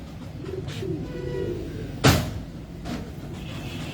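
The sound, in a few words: old Misri pigeons cooing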